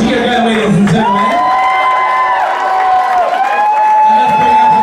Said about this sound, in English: Maybe you can get you a cheer.